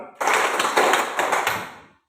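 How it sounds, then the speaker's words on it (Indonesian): Students in a grade 9 social studies classroom at a junior high school clap together in a short, dense burst of hand claps. The applause is close and fairly loud, with no voices, and it fades out after about two seconds. "Tepuk tangan untuk Milton."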